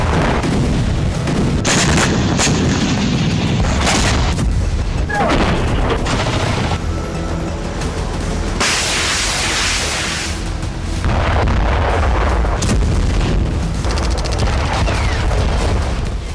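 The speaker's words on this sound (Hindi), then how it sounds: "रूस की धरती पर एक के बाद एक कई धमाके हुए।" Repeated booms and blasts from drone and missile strikes on Russian soil, loud and dense one after another, mixed with a voice speaking over them.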